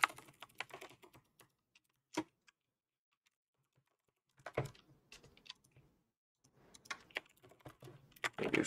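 Keys clatter on a computer keyboard in quick bursts of typing, pausing briefly before resuming with steady, close clicking as form fields are filled in.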